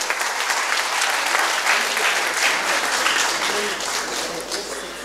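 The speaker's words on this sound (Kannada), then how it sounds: "ಚಪ್ಪಾಳೆ ಹೊಡೀರಿ" Sustained applause from an audience at a student awards ceremony, dense clapping rising and holding loud throughout before tapering slightly at the end.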